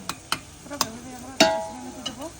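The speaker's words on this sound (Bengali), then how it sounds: "টমেটো চলে গেল কুচি ওকে নাড়াচাড়া করে দেওয়া হচ্ছে" Chopped tomatoes being stirred in a pot of tarka, close-up scrapes and clinks in an uneven rhythm, about six strokes, over a soft sizzle, with a faint voice in the background.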